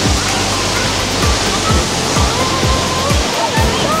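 Tiger Waterfall in Chakrata, Uttarakhand, roars as a loud, steady wall of crashing water, broad and continuous throughout with no talk over it.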